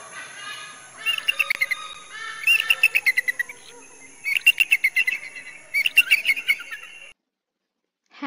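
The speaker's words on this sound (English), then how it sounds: "Eagle." Shrill, piercing bird calls come in four repeated bursts of rapid, descending chattering notes, loud and close, over a faint background hiss.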